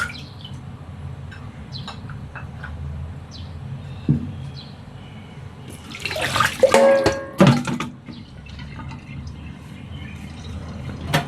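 Tap water runs steadily into a kitchen sink while pork is rinsed by hand, with a burst of louder splashing and clattering midway and faint bird chirps in the background.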